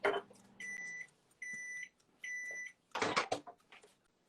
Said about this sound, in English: just doing everything in the microwave